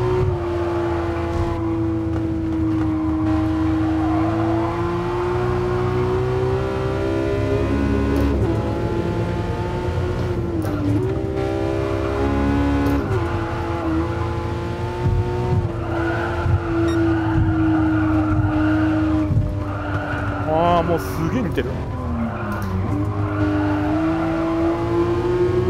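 A Porsche GT3 RS drifts on the Shuto expressway in Gran Turismo Sport. The engine drones loudly and continuously as it rises and falls, with tire squeal and skidding layered over it throughout.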